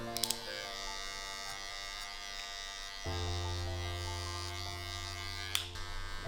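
Electric hair clippers buzz steadily while blending a skin taper, a close mains-pitched hum that shifts to a deeper, louder drone about halfway through, with a few faint clicks at the start and end.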